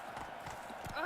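Roach, the horse in the video game The Witcher 3, trots with quick hoof clip-clops, overlapped by a man's speech and a brief rising game-like tone near the end.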